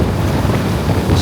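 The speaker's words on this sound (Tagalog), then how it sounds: "Hangin usay mo kusog, usay mo hinay." Strong tropical depression wind in Cagayan de Oro City buffets the microphone in a loud, dense rush with gusty swells, a short burst of roaring air noise.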